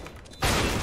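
A gunshot in the video game CS:GO, one sharp, loud burst that breaks off quieter background sound partway through and fills the rest of the moment with a dense noisy blast.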